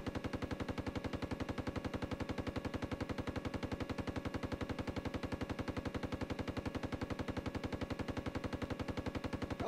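A tank machine gun on an M1A2 SEP in Steel Beasts Pro fires a long, unbroken burst of rapid, evenly spaced shots at steady loudness, with no voices over it.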